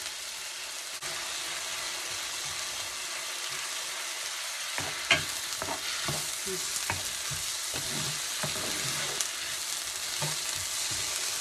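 Vegetables for a kielbasa, beef and bean soup sizzle steadily in a pot, a continuous close frying hiss with occasional soft stirring scrapes and clicks.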